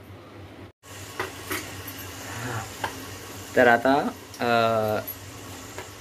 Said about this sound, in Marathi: फोडणी घालायला चालू केली